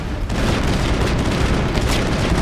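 Dense gunfire in a Mass Effect battle on Eden Prime sounds as a continuous barrage of loud, close booms and cracks with no pause.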